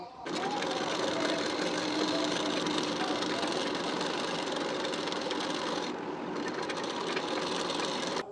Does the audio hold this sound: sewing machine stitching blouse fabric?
yes